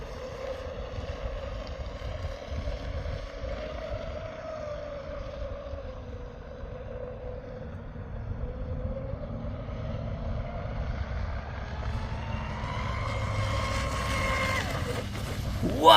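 A Proboat 29-inch RC catamaran with an ABC x445 prop on a speed run, its motor a steady whining drone that holds level and climbs in pitch and loudness toward the end.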